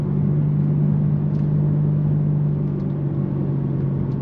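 Interior drone of a 2024 BMW M3 with a six-speed manual gearbox while driving, a steady low engine hum and road rumble held at an even level throughout, loud and close, with no talking.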